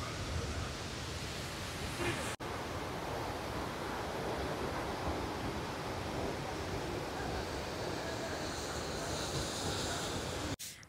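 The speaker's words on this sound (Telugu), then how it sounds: "ఇదే బాహుబలి వాటర్ ఫాల్" Athirappilly waterfall in Kerala, a loud, steady roar of falling water with a windy, spray-filled rush that stays continuous throughout, heard from a viewpoint near the falls.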